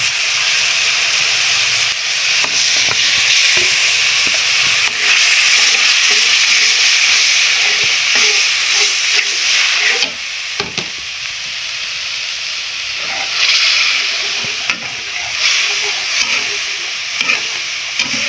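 Small pieces of fried fish cook in oil with ground ginger, chilli, garlic and cumin paste plus salt, turmeric and coriander powder, giving a loud, continuous sizzle with occasional stirring scrapes throughout, no voices.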